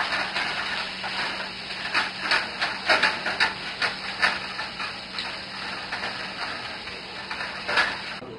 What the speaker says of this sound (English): So you want to fry this up and fry it up good.